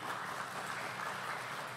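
A crowd at a small business expo in South Kalimantan applauds, steady dense clapping blended into a faint continuous wash with no individual claps standing out.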